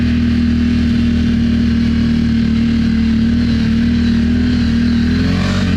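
A CFMoto 1000 ATV engine runs steadily up close, its loud even hum droning on with a slight rise toward the end, no voices over it.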